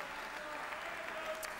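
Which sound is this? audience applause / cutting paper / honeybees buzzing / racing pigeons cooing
audience applause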